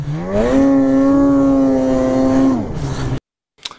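A 2020 Arctic Cat Riot snowmobile engine revs hard during a wheelie, a loud close, sustained whine that rises, holds high, then drops away before a brief silence and a short knock.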